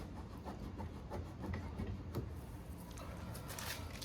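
Rubbing paint overspray off a new smoked Eagle Eye taillight on a 2018-2022 Honda Accord, a close, steady scuffing and rasping with a few sharper strokes, heard alone.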